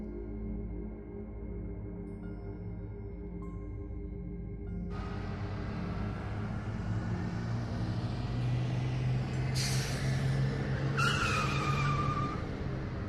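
A bus arrives at a roadside stop at night, its engine rumbling close while brakes squeal sharply twice near the end.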